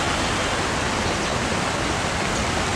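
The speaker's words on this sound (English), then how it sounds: "The waterfall in the desert" A waterfall on a hill in the Qatari desert, a dense, loud and unbroken rush of falling water filling the short stretch with steady broadband noise.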